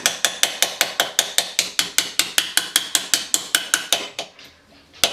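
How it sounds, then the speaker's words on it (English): Ball peen hammer tapping the curve of a metal tablecloth clip, a fast, even series of about twenty sharp ringing strikes close by, then a brief pause and one last tap. "we're just going to use the ball peen side, and we're just going to tap on the curve"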